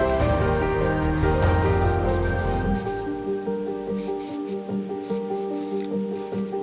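A spray gun applies paint over primer on a crashed BMW X5 M50i car part. A continuous close hiss runs for about three seconds, then breaks into short repeated bursts.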